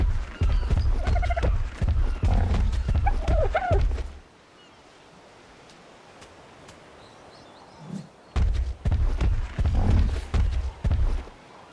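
Turkey-like gobbling and squawking from a bird creature in the video game ARK: Survival, loud and repeated for about four seconds, then a quiet gap, then another burst of close gobbling calls.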